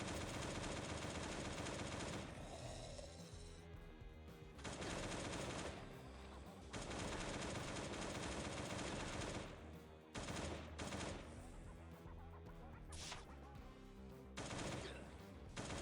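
Sustained automatic AK rifle fire from the Last Day on Earth video game rattles in long bursts, with short pauses between volleys and sporadic trailing shots, loud and close throughout.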